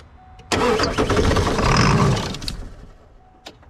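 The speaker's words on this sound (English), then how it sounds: "That was really strange how it kicked on and tried to crank, you know?" A 1996 Ford F250 with a 7.3 liter Powerstroke diesel cranks and briefly catches, a loud sudden roar of starter and engine that surges for about two seconds and then fades away, with no voices.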